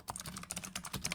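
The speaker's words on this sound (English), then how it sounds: "Loud ass keyboard." Loud computer keyboard typing, a dense run of rapid clacking keystrokes close to the microphone with no talk, heard alone over its short length.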